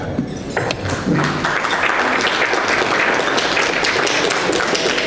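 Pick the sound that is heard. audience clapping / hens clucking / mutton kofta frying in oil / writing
audience clapping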